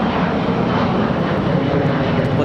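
A oneworld jet airliner on the runway gives a loud, continuous engine roar, steady and close, with no pauses or speech.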